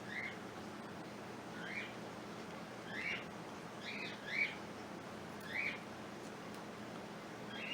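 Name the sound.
pet birds squawking and chirping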